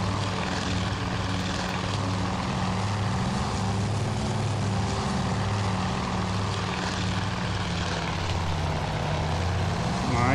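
Droning propellers of a bomber formation in the naval warfare game Task Force Admiral, a steady, loud, continuous engine roar with pulsing low hum that fills the whole stretch without pause.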